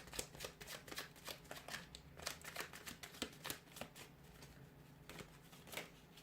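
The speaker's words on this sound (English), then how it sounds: "We'll go ahead and give the cards a shuffle." Rapid riffling and snapping of a deck of cards being shuffled, a quick burst of crisp clicks repeated several times, close and fairly quiet.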